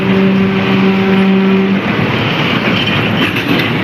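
Train wagons roll through Chennai port with a loud, steady rumble of wheels on rails, a sustained tonal hum over the first half, then continuous rattling and clatter throughout.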